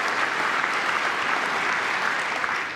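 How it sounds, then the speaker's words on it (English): Democratic lawmakers clap during a presidential address to Congress, a sustained wash of applause from a large chamber audience, steady and fairly loud for the whole stretch, with no clear speech over it. "Oh, the Democrats are begrudgingly clapping for Laken Riley"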